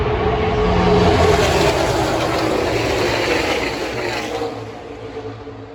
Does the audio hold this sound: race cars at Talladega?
yes